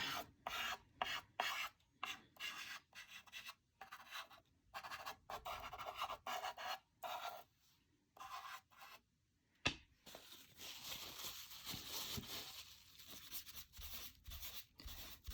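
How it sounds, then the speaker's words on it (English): Soft pastel rubbed onto paper in tiny circles makes close, dry, scratchy rasping in short repeated strokes with small pauses, with no talking. "I'm just making teeny tiny kind of little circles to rub it in."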